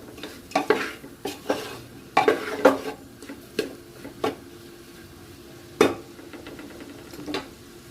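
Spoon stirring veg biryani ingredients in a pressure cooker: a series of sharp metallic scrapes and clinks against the pot at an irregular pace, with a faint sizzle underneath and no talking.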